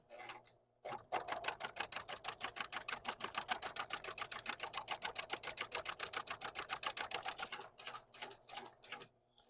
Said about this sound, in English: I'm going to back stitch at both ends as I'm sewing, removing my pins